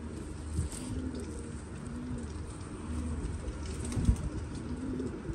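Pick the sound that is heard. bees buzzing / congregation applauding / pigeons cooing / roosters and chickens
pigeons cooing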